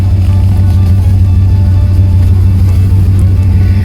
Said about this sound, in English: Let's pop in here, give it a little gas